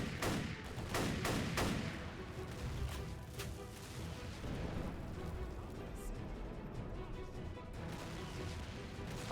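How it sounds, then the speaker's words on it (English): Gunfire crackles in The History Channel: Battle for the Pacific on Xbox 360, with a quick cluster of sharp shots at first, then a duller, sustained rumble of distant combat and scattered reports. "What the fuck are they shooting at?"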